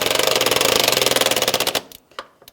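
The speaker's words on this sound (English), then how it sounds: "And we'll put the bolt back in." A power tool drives a trim bolt back into a Chevrolet Silverado 1500 door, a loud, close, rapid rattling hammer of evenly spaced pulses for nearly two seconds before cutting off, followed by a few faint clicks.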